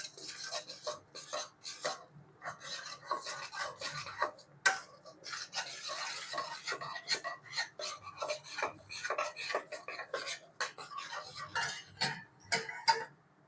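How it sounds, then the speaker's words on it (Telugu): Mysore pak mixture being stirred in a pan as hot oil goes in bit by bit, giving a steady run of close scraping, rubbing and ticking spoon strokes with no voices. "ఆయిల్ కొంచెం కొంచెం వేసుకుంటా మిక్స్ చేసుకోవాలి."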